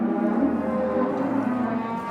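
Cattle mooing on a farm, one long, low, drawn-out bellow that carries close and loud for the whole clip.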